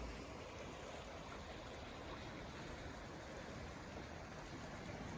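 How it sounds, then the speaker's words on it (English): A stream runs open beside a snowy winter trail, its water rushing as a steady, even wash of noise, faint and unbroken, with no voices over it. "Running water beside the trail."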